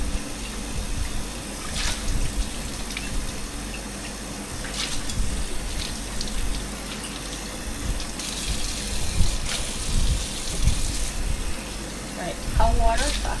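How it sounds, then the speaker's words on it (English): Running tap water rinses out a glass canning jar at a kitchen sink during home canning of sweet potatoes, a steady gushing flow that continues for the whole stretch with brief clinks and faint voices in the background. "So I'm going to rinse this jar out also."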